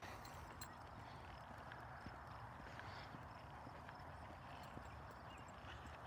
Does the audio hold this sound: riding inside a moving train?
no